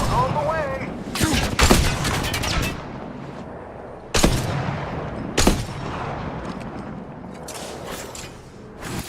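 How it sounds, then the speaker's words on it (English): Gunfire in a video game, with several loud sharp shots and short bursts spaced through the clip among quieter game effects, while a voice talks at times. "They're shooting at me."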